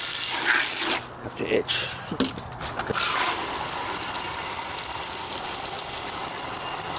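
Water sprays and gushes onto a Sanyo 19-inch CRT TV being washed down, a steady broadband hiss that briefly drops out for a couple of seconds before resuming loud and close, with a voice speaking over it.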